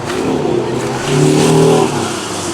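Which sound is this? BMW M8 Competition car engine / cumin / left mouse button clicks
BMW M8 Competition car engine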